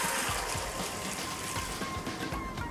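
Hot water pours into a pot of pumpkin soup, a continuous close splashing and rushing flow with bubbling, steady and fairly quiet, no voices.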